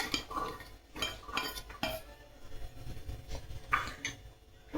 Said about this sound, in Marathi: आता आपण एका भांड्यामध्ये हा साबुदाणा काढून घेऊ